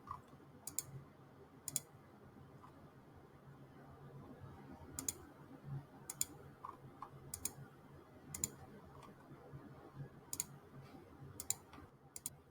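Sharp computer mouse clicks sound one after another at an uneven pace, close and quiet, while deleting pages in Canva, over a faint, low background hum.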